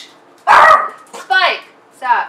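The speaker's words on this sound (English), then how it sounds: "They decided to bark." A dog barks loudly several times in an indoor home setting, with short sharp barks spaced over a couple of seconds and little else around them.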